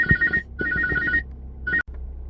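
A telephone rings in three bursts of bright trilling bells separated by short pauses, fairly close and clear against a quiet room.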